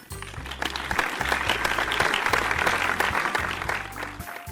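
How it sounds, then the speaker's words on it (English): Applause sound effect from the visual novel game Doki Doki Literature Club: a short burst of clapping from a small group that swells and fades, heard alone. "Natsuki finishes, and everyone applauds."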